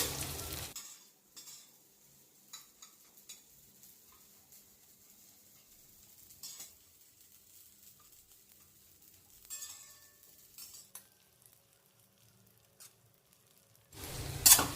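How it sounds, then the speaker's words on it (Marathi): Cashews, almonds and raisins dry-roasting in a pan, with faint, sparse scrapes and light clicks of stirring over near silence, a little louder at the start and end. "त्यानंतर आपण त्याच्यात काजू बदाम आणि मनुके यांनाही चांगल्या प्रमाणात भाजून घेऊ"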